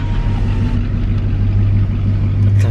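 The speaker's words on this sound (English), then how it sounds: "This truck in front of me is literally like probably like a late 1970s Chevrolet truck." A late 1970s Chevrolet truck idles nearby with a steady, loud low rumble that swells slightly toward the end, heard alone without talking.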